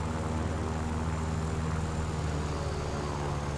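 Yak-9P propeller fighter engine in War Thunder, a steady droning piston roar with even harmonic hum, continuous and close throughout, no voices over it.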